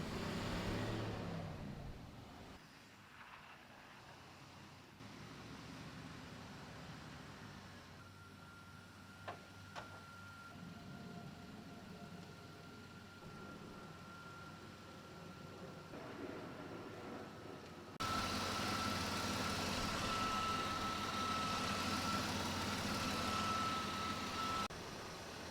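A pickup truck engine idles with a steady low rumble and then gets louder and brighter as it moves closer near the end. A faint whine runs through it and there is no talking.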